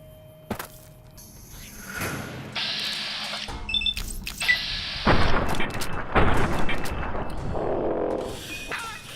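Gunfire in Fallout: New Vegas: a string of sharp, close shots at irregular intervals, layered with game effects and clanking mechanisms, with no talking.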